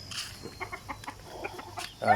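Chickens clucking in short scattered bursts on a backyard farm at morning feeding, a few birds fairly close, with a louder squawk near the end over a low background hum.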